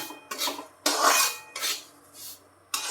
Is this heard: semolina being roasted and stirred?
yes